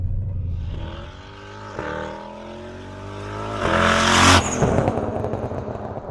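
A turbocharged 3UZ V8 Lexus GS accelerates hard through the gears, its engine note climbing in rising sweeps that drop sharply at each of several shifts, loud and close from inside the car, building to a rushing peak near the end.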